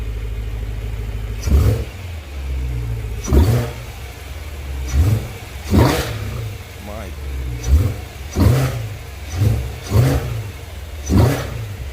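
A BMW E92 M3 engine is revved repeatedly in short bursts with the intake filter off, each throaty intake roar rising and falling back to idle, loud and close, about eight times.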